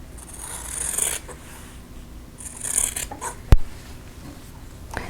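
Quilting fabric is trimmed at the corner of a tulip quilt block, giving two short, crisp cutting rasps followed by a sharp tap, all close and fairly quiet with no talking.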